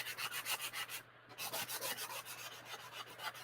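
Rhythmic back-and-forth rubbing of a sanding block distressing painted wood, steady strokes repeating close up with a brief pause midway, no voices.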